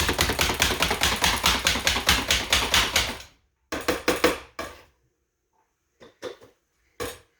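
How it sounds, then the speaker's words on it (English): A knife chops purple cabbage, purple onion and celery on a board in a fast, even run of close, crisp strikes, then a few scattered chops after a pause. "I'm just gonna chop up some of this purple cabbage, purple onion, celery."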